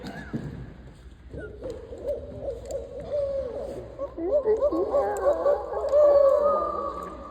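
A person imitates the hooting call of a barred owl, a series of rhythmic, rising and falling hoots that grow louder toward the end, close and clear with no other voices.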